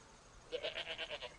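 A female goat in heat, kept apart from other farm animals, gives a short run of rapid, pulsing bleats, fairly close and moderately loud, lasting about a second.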